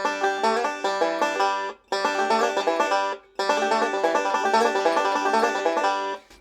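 Rapid, dense banjo picking runs through a slide lick at full bluegrass speed, broken by two brief pauses, bright and close with no voices.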